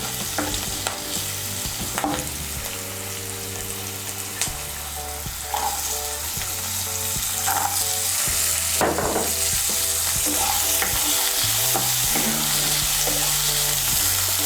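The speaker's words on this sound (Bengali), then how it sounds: "মিশিয়ে নিয়ে সমস্ত সবজিগুলোকে আরেকটু ভেজে নেব।" Vegetables and peas are stir-fried in oil in a pan for paneer fried rice, giving a steady, close sizzle broken by regular scrapes and clinks of the stirring spoon over a low, even tonal hum.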